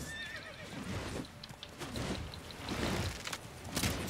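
A horse in The Witcher 3 video game whinnies loudly with a rising and falling neigh, followed by hoof clip-clops and scuffling movement nearby.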